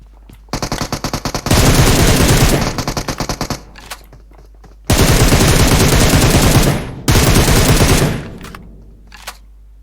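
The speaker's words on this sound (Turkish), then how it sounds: "M762'nin sesinden kaçacak yani." An M762 rifle fires in the PUBG Mobile game on the Livik map: loud, rapid full-auto bursts of several seconds each, separated by short pauses, with a single sharp shot near the end.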